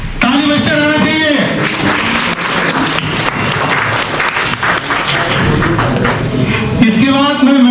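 Sustained, lively applause from an audience at a farewell ceremony for retiring chief pharmacist Rajesh Gangwar, steady clapping running throughout, with a voice speaking at the start and end.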